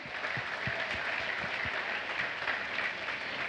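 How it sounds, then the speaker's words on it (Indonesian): Audience applause at a junior high school musical drama performance fills the hall with a steady, dense wash of clapping from many hands, holding at an even level throughout. "Ibu Paksi, beri tepuk tangannya"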